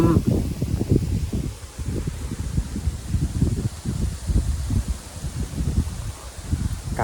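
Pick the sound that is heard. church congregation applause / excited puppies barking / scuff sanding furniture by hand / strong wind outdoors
strong wind outdoors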